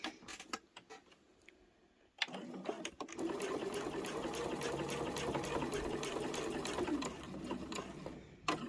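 A sewing machine runs steadily, close and fairly loud, stitching a rotary cutter pouch made from layer cake fabric, after a few seconds of quieter handling clicks before it starts up.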